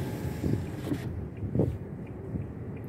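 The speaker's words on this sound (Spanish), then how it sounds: "Acá está todo un viento de locos." Strong wind gusts buffet an outdoor microphone in open, exposed country by a river, a broad rushing roar that swells and dips with a few louder blasts.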